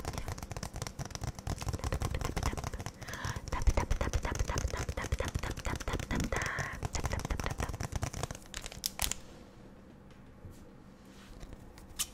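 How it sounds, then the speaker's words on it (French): Fingertips and nails tap close-up on a Pokémon card box in rapid, soft, irregular clicks and rustles for several seconds before easing into near quiet. "Un petit peu de tapping."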